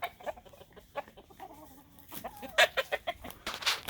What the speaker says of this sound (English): My Kelso cock and his hen.